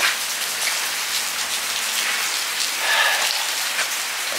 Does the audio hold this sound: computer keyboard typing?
no